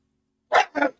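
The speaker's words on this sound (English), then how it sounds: "That's dog and cats." A dog gives two quick, close barks in succession, loud and isolated against silence.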